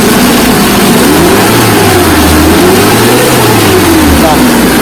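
Loud engine of a 2009 Suzuki Carry Futura pickup revs up and down in rising and falling waves, close to the microphone, with a voice briefly audible over it.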